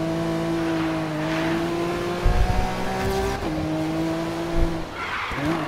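A Lamborghini racing in Need for Speed Rivals, its engine holding a steady high whine with shifting pitch, brief tire skids and low thumps, loud and continuous with no talking.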